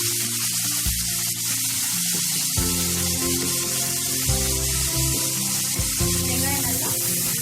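Large onions fry in hot oil in a kadai for a Chettinad chicken fry, giving a loud, steady sizzle that runs the whole time. Faint tonal sounds that may be music sit underneath, and no one speaks.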